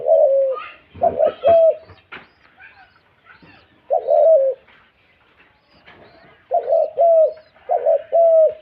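A pet pigeon cooing close by, in repeated short bursts of soft throaty coos separated by quiet pauses.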